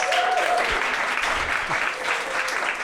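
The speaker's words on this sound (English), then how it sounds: "Another round of applause." Audience at a live podcast recording applauding, dense sustained clapping at steady loudness throughout with a faint voice beneath.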